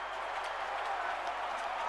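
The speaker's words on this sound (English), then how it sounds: "as this crowd goes crazy" Stadium crowd in the MLB 15 The Show baseball video game roaring and cheering after a game-ending play, a dense, continuous wash of noise filling the whole moment with no break.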